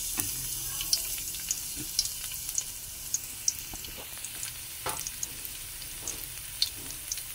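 Garlic frying in a pan for Filipino fried rice, a soft continuous sizzle with scattered crackles and pops, fairly quiet and close, with no talk.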